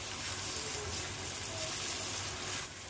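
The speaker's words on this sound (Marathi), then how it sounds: "आता मटार आणि टोमॅटो टाकून घेते मी. छान फ्राय करून घ्यायचा." Onion, chili, peas and tomato fry in a pan for upma, giving off a soft, steady sizzle that stays even and fairly quiet throughout.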